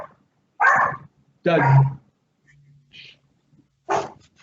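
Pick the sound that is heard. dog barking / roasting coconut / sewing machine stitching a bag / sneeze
dog barking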